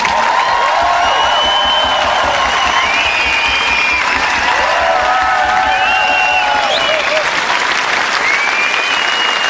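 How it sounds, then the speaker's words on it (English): Loud, dense applause from a large concert audience fills the whole stretch, with scattered whoops and cheers rising above the clapping, at a live show at the Rockhal, Luxembourg. "could you please also give a huge round of applause to my wonderful band"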